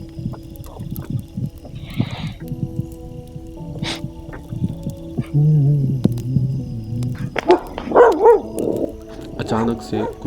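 Dogs bark toward the jungle at night at a dark wild camping spot, with scattered barks and yelps at mid distance mixed with people talking and camp noises.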